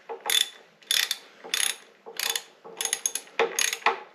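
A 3/8 ratchet fitted with a 7/16 AF socket and two 2-inch extensions clicks in about seven short rhythmic bursts, close and clear in a quiet room during re-assembly work on a 1928 vehicle.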